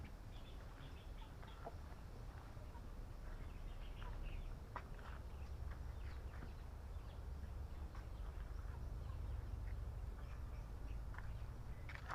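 Ducks quacking on a small backyard farm alongside chickens, faint scattered quacks and bird calls over constant outdoor background noise, with no one talking.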